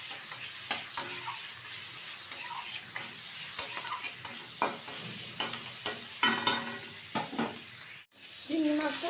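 Shrimp sizzling and frying in hot oil with turmeric powder and nigella seeds, steady crackle with occasional stirring scrapes and utensil taps in a home kitchen.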